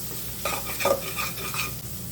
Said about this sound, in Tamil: சும்மா ஒரு ஃப்ளேவருக்காக 1/4 டீஸ்பூன் கரம் மசாலா, இதெல்லாத்தையும் போட்டு நல்லா வதக்கிக்கோங்க.